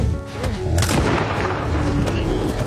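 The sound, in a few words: gunshot from a hunting rifle in The Revenant film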